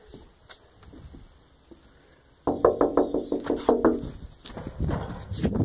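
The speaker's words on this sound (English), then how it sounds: "knock on all the doors and all the windows" A rapid burst of knocks on a house door or window, about a dozen quick raps, close and loud after a quiet start, then a few more scattered knocks and rustling.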